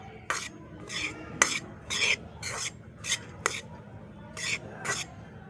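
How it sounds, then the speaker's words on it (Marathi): A cup of semolina is stirred and roasted in a cup of ghee in a pan, the spoon scraping the pan in about ten steady, evenly spaced strokes, close and clear with a soft background hiss. "रवा हा गुलाबी रंगावर येईपर्यंत चांगला परतून घ्यायचा आहे"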